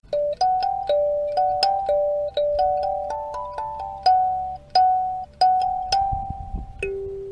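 A bell-like electronic chime sounds the start of classes at a school, ringing as a steady series of clear tonal notes in a repeating melodic pattern, fairly loud and close, with a low rumble underneath near the end.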